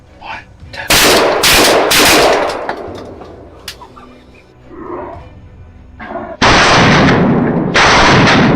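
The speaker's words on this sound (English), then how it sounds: "The bullet tore through the air, hitting its mark with deadly precision." A rifle fires during a night hunt for wild boars, giving several loud, close blasts in quick succession. A rumbling lull follows, then two long, harsh bursts close out the stretch.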